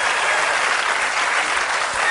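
A live comedy audience breaks into dense, continuous applause, steady and fairly close, with no voices over it.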